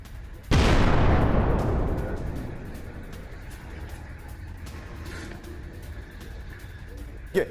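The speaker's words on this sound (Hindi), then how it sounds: "परचिन मिलिट्री कॉम्प्लेक्स में हुआ धमाका, शॉट दिखाइए।" A single loud blast booms at the Parchin military complex near Tehran, opening with a sharp burst and then rumbling away over a couple of seconds into a lingering low roar.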